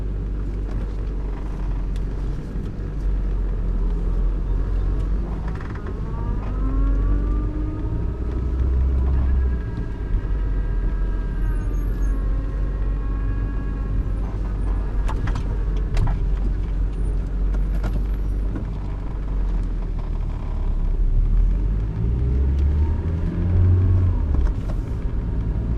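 A Toyota MR2 drives along with its engine rumbling steadily and close throughout, the low droning broken now and then by brief thuds from the car.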